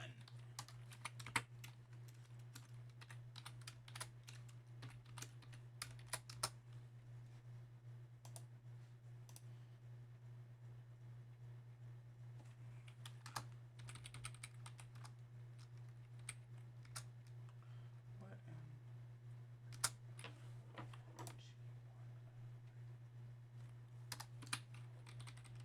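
Keys tapped on a TI-Nspire calculator keypad while entering algebra equations, quiet irregular clicks in short clusters over a low steady hum.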